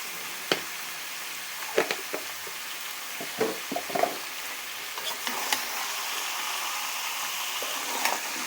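Chicken frying with turmeric and spices in a pan, a steady soft sizzle running throughout with intermittent scraping and stirring clicks of a utensil against the pan.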